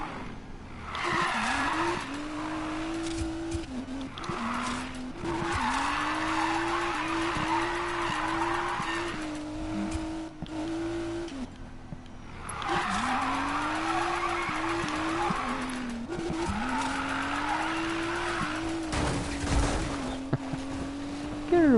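A car engine in Need for Speed Payback revs in steady, droning bursts while tyres squeal through long drifts, loud and continuous with brief gear-change dips, with occasional talk underneath.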